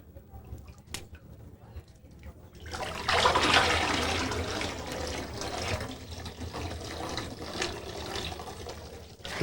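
Surplus whey pours back into a cheese cauldron, a steady rushing, splashing stream of liquid that starts abruptly and continues loudly, close by, with some faint background noise before it begins.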